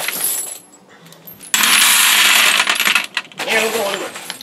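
Handfuls of brass shells pour into a Midway shell sorter, a loud, dense metallic clattering and jingling that comes in two bursts with a short pause between, close and harsh.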